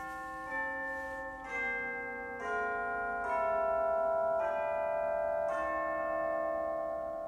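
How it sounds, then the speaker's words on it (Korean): Orchestral tubular chimes of different lengths struck one after another with the same hammer, six clear bell-like strikes at roughly one-second intervals, each at a different pitch and ringing on over the next, with no talk. "차임벨, 이거 오케스트라 같은 데서 그 교회 종소리 같은 효과를 주기 때문에 굉장히 많이 쓰이는"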